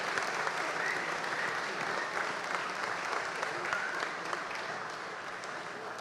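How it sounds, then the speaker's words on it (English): A crowd at a community town hall in a historic gym gives sustained, even clapping, a broad wash of applause that tapers only slightly near the end. "thank all of you for that wonderful applause and moment of recognition."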